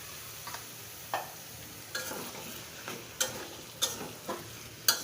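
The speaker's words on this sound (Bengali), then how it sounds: "দেখো মাছটাকে উঠিয়ে নিছি এখন দিয়ে দেবো সে বেগুন আর ধুন্দুলটা দিয়ে দিচ্ছে বেগুন আর ধুন্দুলটা দিয়ে ভালোভাবে" Eggplant and ridge gourd sautéing in a pan for a fish curry, with a soft steady sizzle under sharp ticks and scrapes of a spatula stirring every half second or so.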